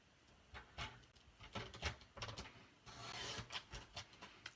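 A paper strip being cut for handmade piano-key note cards, heard as close, repeated scraping and rasping strokes in an irregular rhythm with no talk.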